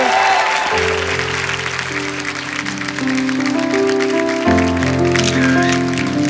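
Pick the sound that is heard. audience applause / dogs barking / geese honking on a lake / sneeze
audience applause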